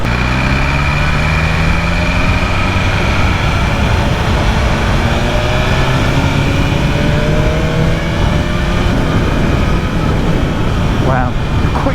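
A BMW S1000RR sport motorcycle accelerates hard with a continuous loud engine roar, its pitch climbing and stepping through quick-shifter gear changes over wind rush.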